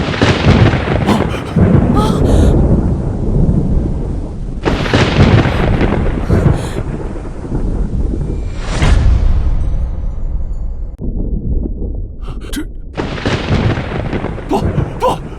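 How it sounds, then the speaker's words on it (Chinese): Thunder in a period drama about a puppet emperor who commands the sky: heavy, loud rolling rumbles and cracking bursts follow one another over several seconds, with the sound of a storm and no voices. "雷来！"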